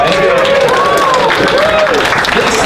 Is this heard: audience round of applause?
yes